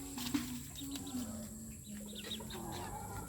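A pet hen makes faint, short clucks in a few scattered bursts, quiet against low background noise.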